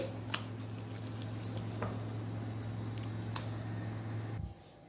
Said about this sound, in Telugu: ఇప్పుడు ఈ పిండినంతా ఒకసారి కలుపుకోవాలి ఇలా మనము ఫ్లఫీగా వచ్చేటట్టు కలుపుకుంటే